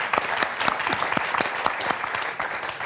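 A TV quiz studio audience applauding two contestants, brisk continuous clapping from a moderate-sized crowd with sharp individual claps standing out, heard alone without talk.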